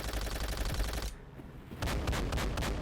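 Rapid automatic gunfire in Call of Duty: World at War, shooting at ships, rattles continuously, breaks off briefly, then resumes in fast bursts, loud and dense.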